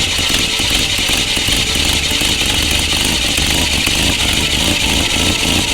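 An engine idles steadily right after its idle was adjusted, a loud close rumble with an even, slightly uneven-firing rhythm that carries on without a break and with no talk.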